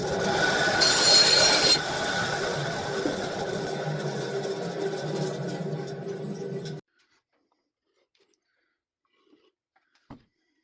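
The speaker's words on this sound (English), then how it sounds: "I'm going to go ahead and just rip a tiny little slice off with the bandsaw" A bandsaw rips a thin slice off a wooden board for a planter box: loud, steady, close cutting roar for about seven seconds, then it stops abruptly into silence with one faint tap afterward.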